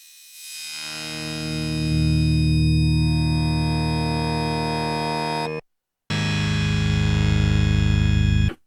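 Waldorf Blofeld synthesizer playing a fast arpeggiated chord patch through a 12 dB high-pass filter, a dense sustained buzzing chord that swells in, holds loud, cuts out briefly and returns.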